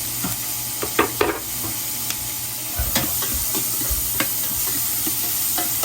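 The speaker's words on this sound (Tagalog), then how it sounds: "Lutuin natin ang ating sibuyas muna bago natin lagay yung pang-sibuyas" Onions fry in a pan with a continuous close sizzle. Sharp utensil clicks and scrapes from stirring come at irregular intervals, and no one speaks.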